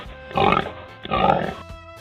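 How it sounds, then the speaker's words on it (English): Domestic pig grunting twice, two rough, close, fairly loud grunts about a second apart with quiet gaps between. "pig,"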